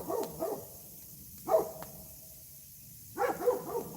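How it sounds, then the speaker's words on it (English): A dog excitedly barking at a visitor arriving at a Southern home, heard as a few short clustered bursts of barks at a moderate distance, spaced apart with quiet gaps between them. "This is why the dog is going crazy."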